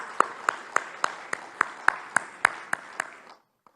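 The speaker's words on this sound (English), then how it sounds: "Can we also please have a loud round of applause?" A small group claps in slow, steady unison at a Lanka Premier League 2024 cricket player auction: about eleven evenly spaced, sharp claps over a soft room murmur, stopping abruptly.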